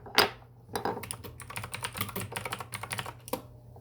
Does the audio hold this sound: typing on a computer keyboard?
yes